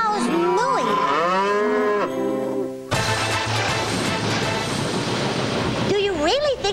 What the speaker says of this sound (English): cows mooing